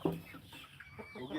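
Chickens on a farm as a rooster mounts a hen, a sharp squawk up close at the start followed by fainter clucks and scuffling.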